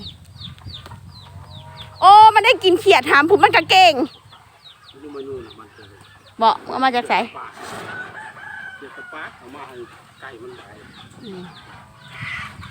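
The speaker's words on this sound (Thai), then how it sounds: "ไก่" On a family farm with fish ponds, frogs, geese and poultry, a rooster crows loudly and close, twice, among scattered clucks. Someone talks between the calls.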